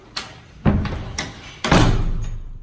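Secured multi-point-locking entrance door of an apartment in Spain: a light tap, then two heavy close thuds as it is pushed and shut, with no talking.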